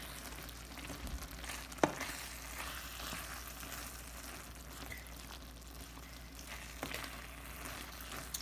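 Ground meat for a crockpot lasagna sizzles and fries in a pan with a steady hiss, joined by a sharp clank and some stirring scrapes, close and moderately quiet with no talking.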